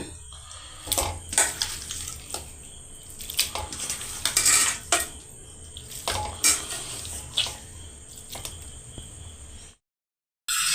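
A utensil scrapes and clatters in a pan as raw chicken pieces are stirred into fried onion, ginger and garlic for doi chicken, with repeated sharp knocks and soft sizzling, then a sudden brief silence near the end.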